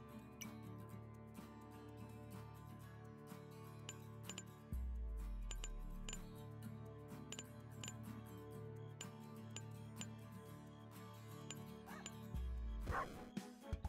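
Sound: dog barking in video game Turbo Pug

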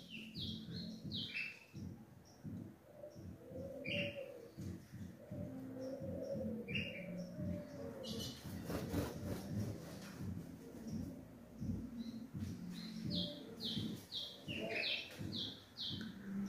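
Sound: azulão (blue grosbeak) bird chirping in an aviary

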